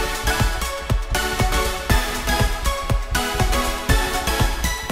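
Synthesizer track played through the reFX Nexus 3 software instrument, with a steady beat of punchy low hits under sustained chords and bright upper layers, loud and continuous with no voices.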